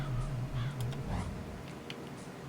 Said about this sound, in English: Why did I throw that bird?